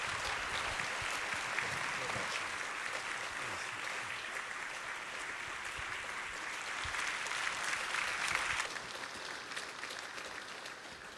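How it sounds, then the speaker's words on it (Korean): A church congregation at a Wednesday worship service claps to welcome a missionary, sustained dense applause from many hands in a reverberant hall, swelling slightly before tapering off near the end. "우리 박수로 환영하겠습니다."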